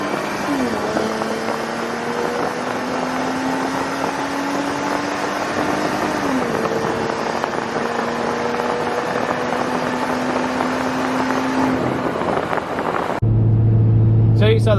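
A Mercedes SLK32 AMG in a full-throttle pull, engine note rising steadily, dipping briefly at a gear change, then climbing again before cutting off into a different steady hum; a voice is heard near the end.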